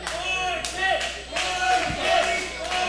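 A split wrestling crowd at a UCW event chants for two rival wrestlers, producing a steady roar of many voices that swells in rhythmic waves, with sharp bursts and claps rising above it.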